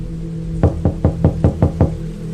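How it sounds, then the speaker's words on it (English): Seven evenly spaced knocks on a door at midnight in a small town, firm and close, ringing out one after another over a steady low hum with no voices. "Knocking at this hour?"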